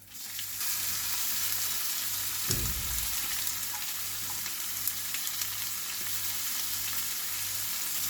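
Crushed garlic with its skin and green chili hit hot tempering oil, giving a steady, close sizzle that continues unbroken for several seconds, with a brief stir or clatter early on and no speech.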